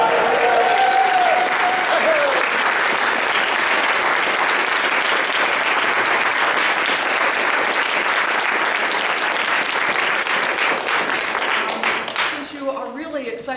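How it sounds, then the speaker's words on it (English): A church congregation claps and cheers loudly for their newly installed pastor, Megan Rohrer, at a Beatles Mass; sustained, dense applause with shouts runs for many seconds before fading into scattered claps and a voice at the end. "Since you are really excited and love cheering and clapping"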